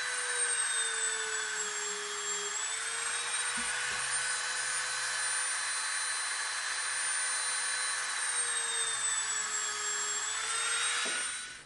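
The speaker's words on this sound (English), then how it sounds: "We're going to take our slightly wider Dremel bit. We're going to make a rivet on both sides." A Dremel rotary tool with a slightly wider bit cuts rivet details into EVA foam for a Destiny Hunter knife prop, whining steadily at close range with a small dip in pitch and cutting off at the end.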